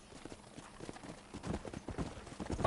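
Horses in a corral in the video game Red Dead Redemption make soft, uneven clip-clop hoof thuds on dirt, faint at first and growing louder and busier toward the end.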